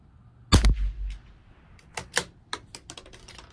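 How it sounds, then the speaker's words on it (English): A single close, sharp CZ 457 LRP rimfire rifle shot firing CCI Standard Velocity ammunition at a 100-yard range, followed by a few light clicks and taps of handling. "Last shot."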